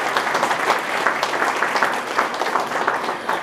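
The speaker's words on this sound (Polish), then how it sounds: "brawa dla organizatorów" An audience at a Christmas carol group and nativity play festival claps for the organizers. Many hands give dense, lively applause that carries on steadily and is moderately loud.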